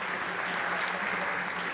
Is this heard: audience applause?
yes